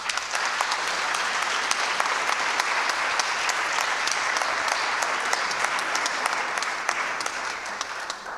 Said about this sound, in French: On peut aussi les applaudir.